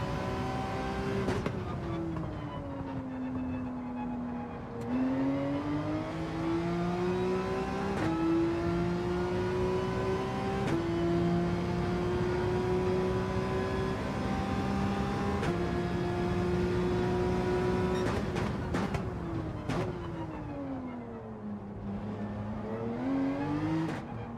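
A Porsche race car engine in Gran Turismo 7 practising at Fuji drones loudly and steadily, pitch rising and falling through gear changes, with several sharp downshift dips and a falling drop near the end.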